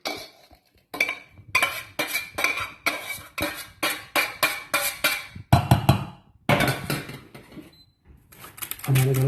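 Mashed potato with butter, cream and wilted onion being folded, a rapid series of rhythmic scraping and clacking spoon strokes against a bowl, close, with brief pauses between bursts.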